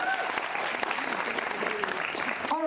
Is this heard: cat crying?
no